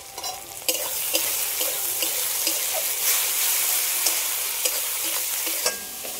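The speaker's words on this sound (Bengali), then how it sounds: "মশলাটা ভালো করে কষানো হয়ে গেছে" Spice masala for mutton biryani being stir-fried in hot oil, a steady close sizzle broken by repeated scraping stirs of the spoon in the pan.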